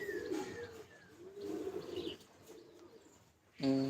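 Pigeons in a loft give low, rolling coos in several separate bursts nearby, with a brighter chirping call near the end.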